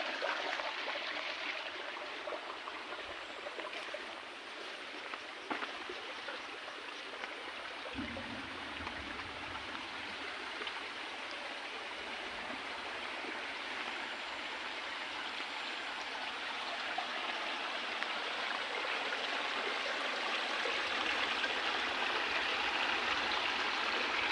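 Clear stream flowing through a village before a storm, a steady close rushing and trickling of water that holds even and unbroken throughout with no voices.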